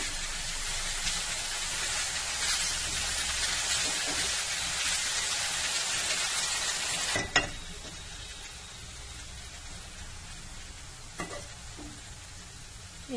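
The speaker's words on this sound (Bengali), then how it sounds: "একটু লবণ আর গোলমরিচের গুঁড়ো দিয়ে ভালো করে এটা আস্তে আস্তে আঁচে এটাকে সাঁতলাতে হবে।" Chicken, carrots and onion sauté gently over low heat with salt and pepper, giving a soft, even sizzle that drops to a quieter simmer partway through, broken by a couple of clicks from a utensil.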